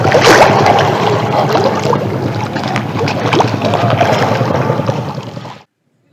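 A boat moving on the Meghna river near Char Abdullah, a steady loud rush of engine, water and wind noise that cuts off abruptly near the end.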